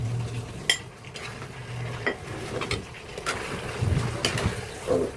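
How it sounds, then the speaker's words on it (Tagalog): Fried shrimp tipped into sweet and sour sauce in a pan, with scattered clinks of a utensil against the pan, soft stirring and a low sizzle running underneath at moderate, close volume. "Lagyan na natin itong fried na hipon."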